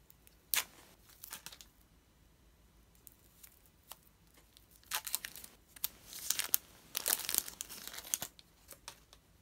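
Plastic packaging around a toy from a bath bomb is handled and cut open with scissors, giving sharp bursts of close crinkling, snipping and tearing separated by quiet pauses, with no talking.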